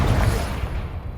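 The Incendio fire spell in Hogwarts Legacy bursts out as a brief, loud, rushing blast that fades away within about a second.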